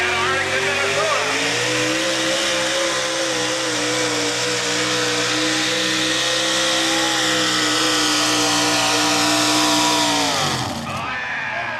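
A four-wheel-drive pulling truck driven by Mike Fancy of Arlington, Minnesota roars at full throttle in a truck and tractor pull, a loud sustained engine howl that holds steady for about ten seconds before dropping off sharply.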